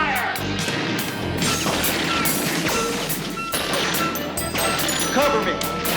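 Heavy gunfire during a warehouse hostage standoff in a TV action scene, loud and dense, with repeated sharp bangs and crashes layered over a continuous wall of noise for the whole stretch.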